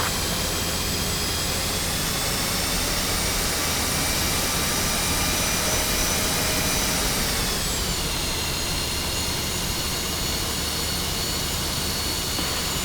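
An F-5E jet rolls along the runway in DCS flight simulator, its engine giving a loud, constant roaring whine with a high tone that steps down partway through, with no voices.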